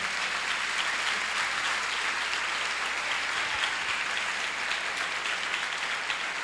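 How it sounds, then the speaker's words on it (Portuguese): A church congregation claps for the Lord in steady, even applause that holds at a constant level throughout, somewhat distant and without voices on top. "Uma salva de palmas para o Senhor"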